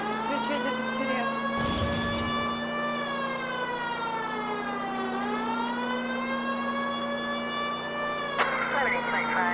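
A police siren wails in the L.A. Noire video game, a loud, close, continuous tone that sweeps up and down over an engine drone, with a brief thump and crackle near the start.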